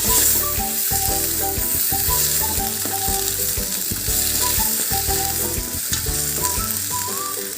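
Tomatoes sautéing in a pan for spicy kara chutney, a loud continuous sizzle with rhythmic stirring and scraping strokes throughout, close up and without voices.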